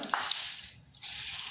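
Jaggery and coconut cooking in a pan, part of a winter radish dish from Khulna, give off a steady, loud sizzle with light stirring scrapes that briefly dip before resuming.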